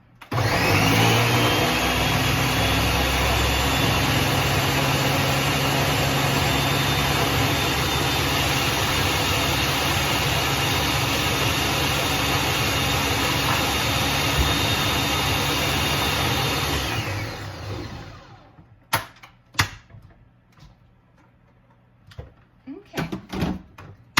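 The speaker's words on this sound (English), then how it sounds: "let's go ahead and put the lid back on and blend that up" A kitchen blender roars loud and steady for about seventeen seconds while blending baking batter, then winds down and stops, followed by a few clunks and knocks as the jar and lid are handled.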